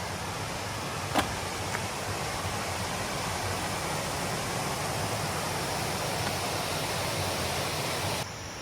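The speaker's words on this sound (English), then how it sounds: "Old waterfall that ran the mills." An old waterfall that once powered the mills, a steady full-bodied rush of falling water that holds constant and then drops off abruptly at the end, with no voices.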